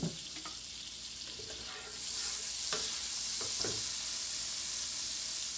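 Butter and a tablespoon of avocado oil sizzle in a pan over medium heat, a steady hiss that swells louder partway through, with a few faint clicks and scrapes of stirring.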